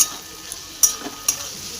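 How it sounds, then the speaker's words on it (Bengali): Chopped snake gourd and pointed gourd fry in oil tempered with nigella seeds and dried red chilies, a steady close sizzle broken by a few sharp clinks and scrapes of stirring. "আর এখানে ভেজে নিচ্ছি চিচিঙ্গা, পটল সব একসাথে কুচিয়ে কালো জিরে শুকনো লঙ্কা ফোড়ন দিয়ে বসিয়ে দিয়েছি।"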